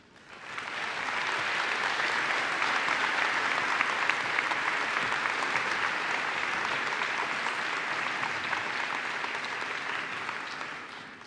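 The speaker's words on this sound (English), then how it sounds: "thank you to everyone for applauding every single one" Convocation audience at Bishop's University applauding graduates, steady sustained applause from a large crowd that fades in quickly and holds evenly for around ten seconds before tapering.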